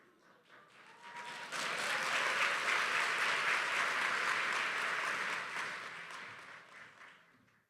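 Audience applause at a women's awards and induction ceremony, a full round of clapping that swells within the first two seconds, holds steady, then tapers away at the end.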